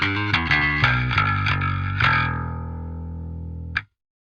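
Distorted bass guitar tone run through the Parallax X plugin with the mic placed at the center of the cone, a string of picked notes ringing bright and gritty before a long sustained note and a final muted pluck.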